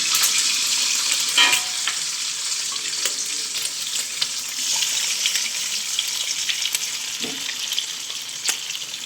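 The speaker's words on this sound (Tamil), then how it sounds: "இப்போ நாங்கள் முட்டையை அடித்து ஊற்றுவோம் முதல்ல முட்டை தான் வறுத்து எடுக்கணும்" Steady crackling sizzle of beaten eggs frying in hot oil for Sri Lankan kottu roti, continuous and close, with occasional light clinks and stirring scrapes.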